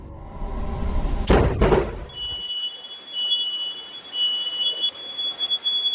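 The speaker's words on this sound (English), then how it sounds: "Immediately after the lightning strike, the fire alarm activated straight away." After a short burst of sharp crackling impacts from a lightning strike at a Florida house, a home fire alarm starts up with a steady, high electronic beep that persists, sometimes dropping in and out.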